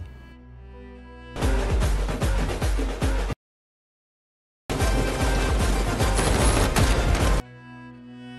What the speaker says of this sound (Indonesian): para napi mengepung balik dan menembaki polisi